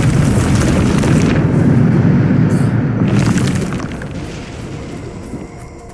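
Loud spell explosion from Bombarda in Hogwarts Legacy, a deep booming blast that rumbles on and slowly fades over several seconds, with no talk over it.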